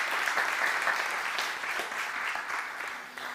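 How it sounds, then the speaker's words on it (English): Audience applause at a spiritual talk, steady dense clapping filling the whole stretch at an even level before tapering slightly at the end, with no voices over it. "One more round of applause."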